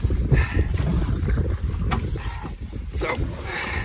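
Wind buffets a canoe out on open water, a loud steady roar of gusts hitting the microphone with faint splashing beneath, and no voices.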